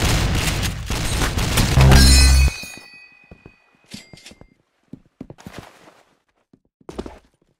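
Video game gunfire opens with a dense, loud burst of rapid shots and booms that cuts off abruptly, followed by scattered sharp single shots and clicks spaced out over several seconds.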